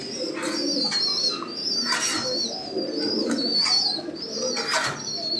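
Fancy pigeons of a pure old bloodline coo repeatedly at their loft, with soft overlapping calls in a steady rhythm, close by and fairly loud.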